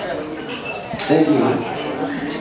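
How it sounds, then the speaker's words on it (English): Glasses clink at a wedding reception right after a toast to the bride and groom, a few bright chiming taps mixed into loud crowd chatter and cheering. "I'd just like to offer a toast to Nick and Rachel, wonderful bride and groom"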